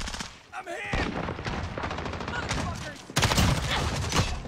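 Rapid bursts of gunfire from a shooter video game, close and loud, with a sharp heavy blast near the end and a player shouting over the shots.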